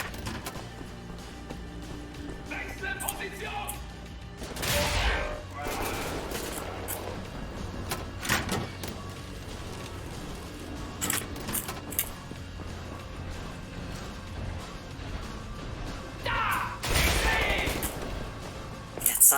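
Machine gun fire in Wolfenstein: The New Order comes in short loud bursts scattered through a busy game soundscape, with mechanical clanks and background noise between volleys.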